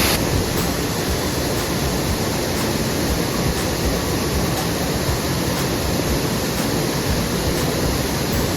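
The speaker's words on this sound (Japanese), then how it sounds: "昨日の滝と比べたらちょっとしょぼめですね" Waterfall at Salto Minas in Ybycuí National Park, Paraguay: a steady, dense roar of falling water fills the whole span, loud and unbroken, with no voices.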